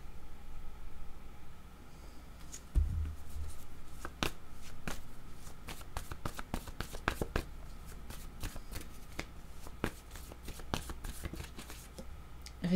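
A deck of tarot cards is shuffled and drawn, a quiet series of crisp flicks and riffling snaps close by, with rapid clusters in the middle and faint background hiss.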